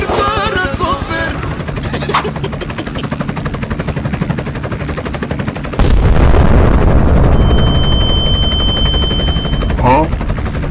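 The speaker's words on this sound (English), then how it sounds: "Helicopter, helicopter." Cartoon-style helicopter sound effect with rapid chopping rotor pulses and bursts of booms, loud and close, mixed with animated character voices.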